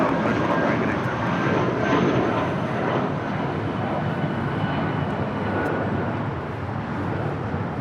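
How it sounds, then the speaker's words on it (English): A Spirit Airlines Airbus A319 departs Los Angeles International Airport bound for Atlanta, its engines a steady, broad roar that holds loud and even throughout. "This departure is Spirit 3103 departing to Atlanta, Georgia on an A319"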